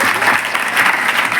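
Dense, steady clapping from a room full of students at a girls' junior college in Hyderabad, applauding a girl, close and continuous without pause.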